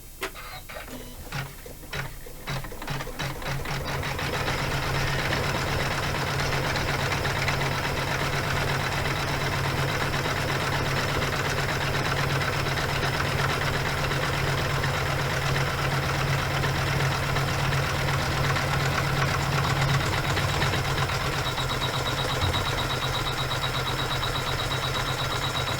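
A computerized embroidery machine stitches an in-the-hoop zipper pouch, a steady loud mechanical whir and rapid needle chatter running continuously after a brief start, with no talk.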